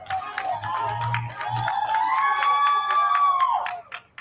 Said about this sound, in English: all of the crowds are cheering right now